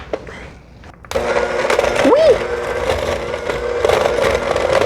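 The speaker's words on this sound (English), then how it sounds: "So first we are going to cream this butter and sugar together." A mixer whirs steadily as room-temperature butter and caster sugar are creamed together in a kitchen, a loud continuous motor hum starting abruptly and running throughout, with a brief voice sliding up and down over it.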